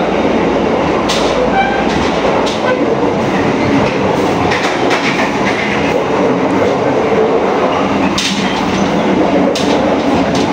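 Loud, steady rumble and rattle of an economy-class passenger train travelling from Malang to Bandung, heard in the gangway between carriages, with continuous wheel clatter and a few sharper metallic clicks throughout.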